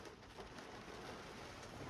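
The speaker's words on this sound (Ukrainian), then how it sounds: "Дощ падає." Steady, dense rain hissing down, a continuous broadband wash with no voices over it.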